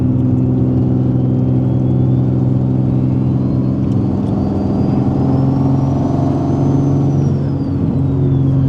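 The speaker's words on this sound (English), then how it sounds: "That turbo sounds, though, it sounds amazing." Turbocharged Nissan 370Z engine running steadily at elevated revs in hot weather, a loud continuous drone with a faint rising and falling turbo whistle over it throughout.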